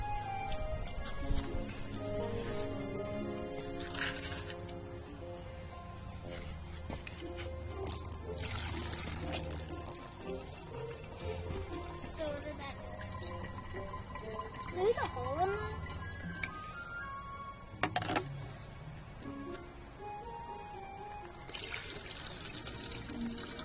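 Collected rainwater being poured and filtered to strip out leaves, with a gentle trickling and splashing under steady background music and occasional voices.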